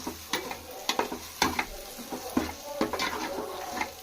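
Mixed vegetables with carrots, beans and onions frying and being stirred in a pan for veg curry: steady sizzle with repeated scraping stir strokes, close and moderately loud, no talking.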